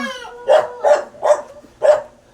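A dog barks four times in a steady rhythm, fairly close and clear, with short pauses between each bark and no talking over them.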